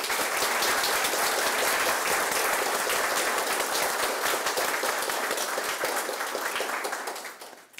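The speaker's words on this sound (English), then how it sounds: "I think we'll offer another round of applause to Isabella" Sustained applause from a large crowd at a university awards ceremony, steady and dense throughout, fading out at the very end.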